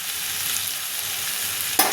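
Ginger, garlic and onion paste with chilli powder, cumin powder and salt fries in a pan, a continuous close sizzle that ends with a sudden scrape of stirring.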